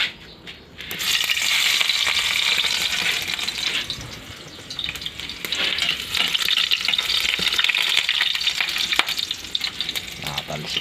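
Garlic dropped into hot cooking oil sizzles loudly and steadily, a bright crackling hiss with stirring and occasional spatters, close up and continuous for about ten seconds after a brief quiet start.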